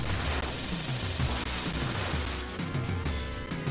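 Dense barrage of missile fire in the Mega Man X3 video game, a continuous roaring rattle of rapid blasts that fills the sound, loud and unbroken before thinning slightly near the end.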